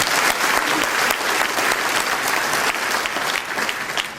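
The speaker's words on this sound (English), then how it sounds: "So let's give them a round of applause." Audience applauding city cleanup volunteers at a city meeting, a loud, dense burst of clapping from a sizable crowd that holds steady and tapers slightly at the end.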